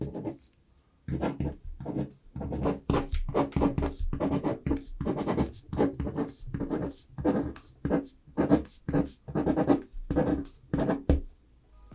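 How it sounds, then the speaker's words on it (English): A pen scratches steadily across regular printer paper in quick, rhythmic strokes, close and fairly loud, with short gaps between words. "10 seconds of pen and paper writing ASMR"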